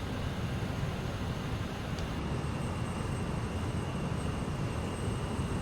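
Steady broadband roar of BAE146-100 jet engines heard from the cockpit in a flight simulator as the throttle eases back during descent, constant and fairly loud with faint high whine, no talk.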